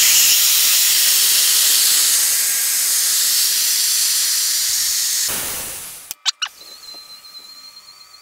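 Gas hisses loudly and steadily from a SodaKEG keg during a pressure purge, then is cut off abruptly, followed by a few sharp clicks and a faint high whine.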